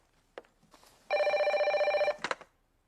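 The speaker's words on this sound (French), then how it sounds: "Réponds au téléphone, tu veux?" A telephone rings in a Haitian home with a single sustained electronic ring lasting about a second, framed by faint clicks and soft knocks in an otherwise quiet room.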